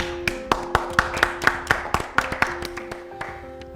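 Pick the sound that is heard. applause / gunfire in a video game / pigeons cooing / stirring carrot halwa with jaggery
applause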